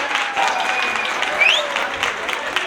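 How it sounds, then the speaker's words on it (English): Audience applause at a sangeet celebration for a grandmother, dense steady clapping from a crowd with a whistle-like tone rising through it, continuous for the whole stretch with scattered voices underneath. "Give a big round of applause for Aji for coming here."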